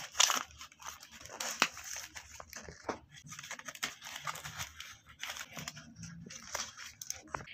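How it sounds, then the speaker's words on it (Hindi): Acne cream packaging is handled and torn open up close, with irregular crinkling, tearing and crunching bursts of paper and plastic, moderately quiet, with no talking. "तो अभी मैं इस क्रीम को खोल कर दिखाती हूँ कि ये अंदर से किस तरह की उन्होंने दी हुई है"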